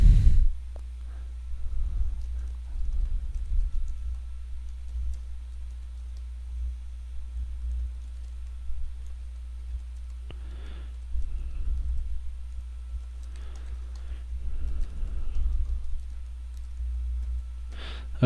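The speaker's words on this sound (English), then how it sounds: "So I can type in an update." Computer keyboard typing out a text message update, with bursts of light, close key clicks separated by pauses over a steady low hum, no speech.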